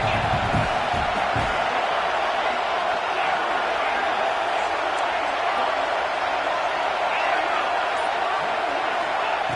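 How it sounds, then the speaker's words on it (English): Football crowd at a Washington game roaring on third down, a dense, steady wall of cheering and noise that stays loud for the whole stretch. "Third down and the crowd really getting into it."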